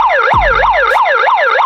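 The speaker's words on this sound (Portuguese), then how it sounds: "E também tem uma mega de uma sirene." A loud electronic megaphone siren wails in a repeating rising-and-falling pattern, about five cycles, with a low thump near the start and no voices.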